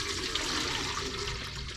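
Very hot water is poured from a jug into a container to mix with Oil Eater degreaser for cleaning LS3/L92 engine parts, making a steady, close, rushing splash from start to finish.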